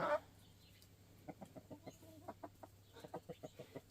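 Short, soft clucks repeat in a loose, irregular rhythm, a homegrown hen close by, with a faint steady hum underneath and a brief louder sound at the start.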